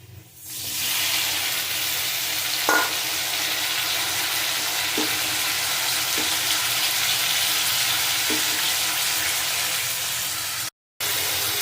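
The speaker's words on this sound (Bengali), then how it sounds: "লবণ দিয়ে একটু নাড়াচাড়া করব দিয়ে দেব কাঁচা টমেটো" Green tomatoes and potatoes frying with salt, stirred in a pan, giving a loud steady sizzle throughout with a few soft scrapes of the spoon.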